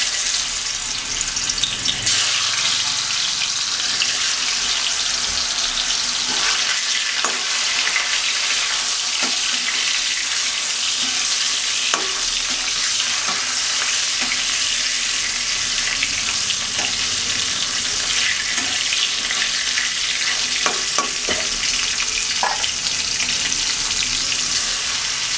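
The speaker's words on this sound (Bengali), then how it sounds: "কড়াই তেল গরম হয়ে গেছে, আমি এক একটা করে মাছ দিয়ে দিচ্ছি।" Pieces of katla fish fry in hot oil in a kadai, giving a loud, continuous sizzle with occasional clinks and soft splashes throughout.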